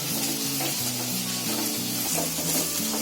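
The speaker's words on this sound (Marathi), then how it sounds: "आपल्याला हे मसाले आहेत ना ते चांगले आता ढवळून घ्यायचे" Spices stirred into soybean keema frying in a pan, a steady close sizzle with repeated scraping strokes of a spoon and a low background hum throughout.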